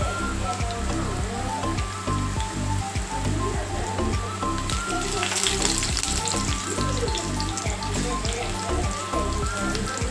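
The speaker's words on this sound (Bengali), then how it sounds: "রসুনগুলোকে আমি একটু লাল লাল করে ভেজে নেব।" Garlic, dry red chillies and panch phoron fry in oil in a wok with a dense, loud, rain-like sizzle and occasional stirring noises, continuous and close.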